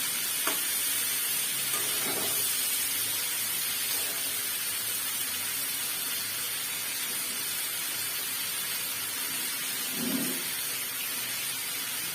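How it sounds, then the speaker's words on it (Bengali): Shrimp frying in a pan give off a steady, close sizzle lasting the whole stretch, with a few soft stirring scrapes and clinks breaking through now and then; no one speaks. "চিংড়ি মাছ ভাজতে খুব বেশি সময় লাগে না, এটা তাড়াতাড়ি ভাজা হয়ে যায়।"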